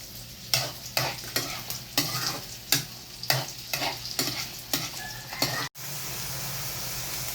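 Pork sautéing with garlic and onion in a pan for adobong sitaw with tofu, a steady close sizzle punctuated by a series of sharp scraping stirs of the spatula, ending in a brief pause before the frying continues.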